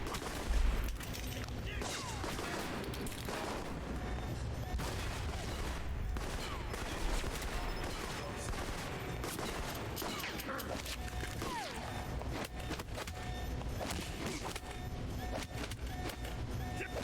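Sustained gunfire in Alpha Protocol, dense rapid shots and impacts crackling continuously for the whole stretch, with game effects and occasional voices mixed in.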